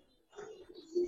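A pet pigeon in a loft gives a short, soft coo that swells toward the end, close by with faint bird chirps in the background.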